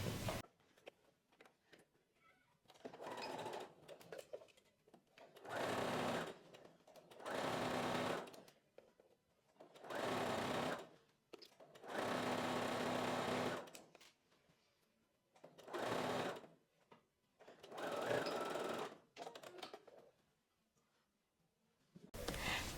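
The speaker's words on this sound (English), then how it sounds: "I'm going to go to my sewing machine and then I'm going to sew it" A home sewing machine stitches a seam on a maxi dress in repeated bursts of several seconds each, its whirring motor rising and stopping between short pauses, fairly quiet and close.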